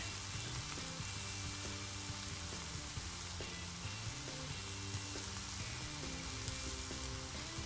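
Chicken gyro meat and bread sizzle on a flat grill at a campsite, a steady, dense crackle that holds even and unbroken throughout, with faint clinks and stirring noises underneath.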